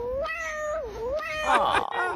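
A short-faced, flat-nosed cat meows several times in quick succession, with rising and falling wavering cries, played back close and fairly loud with a brief muffled scuffle near the end.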